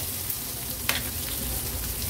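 Garlic frying in oil on a pan, a steady broadband sizzle that holds evenly throughout with one brief sharper crackle near the middle, close and fairly loud with no voices.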